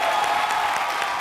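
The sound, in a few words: studio audience applause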